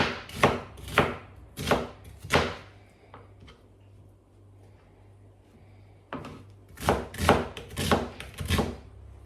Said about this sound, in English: I'm chopping my onions.